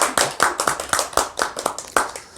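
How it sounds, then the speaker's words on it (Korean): A church congregation claps in praise to the Lord, a brisk run of loud, close hand claps in a fairly regular rhythm with no talking. "우리 새롭게 하실 주님께 영광의 박수를 드리십시다."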